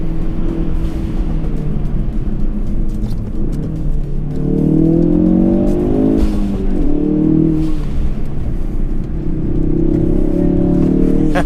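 Sports car on backroads pulling hard in third gear, a loud close engine roar climbing in pitch through two rising pulls over a steady rumble, no talk.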